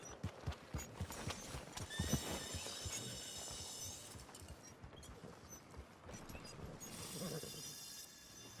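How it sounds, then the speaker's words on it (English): Horse hooves clip-clop in a rhythmic patter in a Western video game, with a whinny and soft ambient game sounds mixed in at moderate level. "Hey, good-looking horse there."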